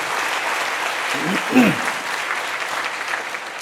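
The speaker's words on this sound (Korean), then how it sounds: "우리 감사의 박수, 하나님께 영광의 박수 한번 하시죠." Church congregation at a Friday prayer meeting applauding, a soft continuous patter of clapping with a brief spoken voice in the middle.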